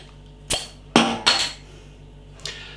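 Beer bottle of Nemeton Dark Forest Blueberry Choco Cheesecake imperial stout being opened: a few sharp close clinks and a hissing pop-like burst, then a faint later tick, over quiet room hum.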